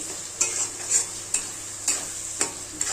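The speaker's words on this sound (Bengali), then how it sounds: "মশলাটাকে ভালো করে কষিয়ে নিয়ে" Spice paste for dal tadka stir-fries in a pan, with a hissing sizzle and regular scraping strokes of a spoon about every half second, close and clear with no voices.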